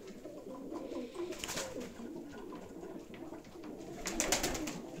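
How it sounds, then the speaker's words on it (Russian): Pigeons coo in a loft, soft rolling calls rising and falling over a hushed indoor background, with a louder burst of cooing and fluttering near the end. "хочу показать голубей"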